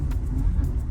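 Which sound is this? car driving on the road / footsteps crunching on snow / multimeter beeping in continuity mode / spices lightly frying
car driving on the road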